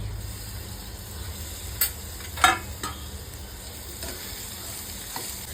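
Prawns with turmeric fry in a pan with a steady low sizzle, broken by a couple of brief stirring clatters and scrapes, near and fairly loud.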